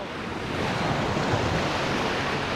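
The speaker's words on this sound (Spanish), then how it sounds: "Vengan y disfruten con nosotros de la playa Caleta de Campos, que en estos días se encuentra muy tranquila." Ocean waves wash onto a calm beach at Caleta de Campos, Michoacán, a steady close roar of surf that swells slightly and stays constant with no talk.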